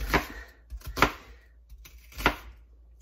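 A knife chops through an onion on a cutting board, three sharp separate thuds spaced about a second apart, close and clear with quiet between them.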